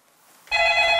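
A telephone starts ringing after half a second of near silence, then a bright, sustained electronic ring carries on clearly and loudly to the end.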